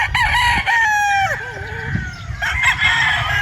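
A straight comb golden boy rooster crowing at close range on a farm, one loud drawn-out crow with a wavering tail, followed by a shorter cluck-like call.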